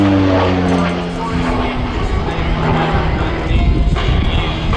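A North American Rockwell OV-10 Bronco, a twin turboprop, performs aerobatics at an air festival, its loud droning propeller hum shifting pitch as it passes, under an announcer's commentary.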